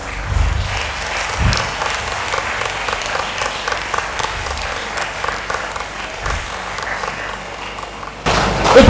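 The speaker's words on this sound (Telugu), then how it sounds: "మాతాజీ చప్పట్లతో" A crowd at a Ramayana Shankharavam gathering applauds Mataji after her talk, dense sustained clapping from many hands, with a few heavier thumps and a louder surge at the very end.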